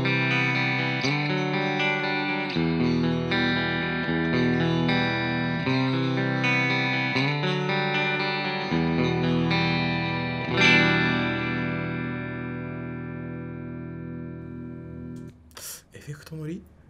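An electric guitar arpeggio recorded through an RNDI direct box plays sustained, ringing picked notes that fade out near the end, followed by a brief burst of talk.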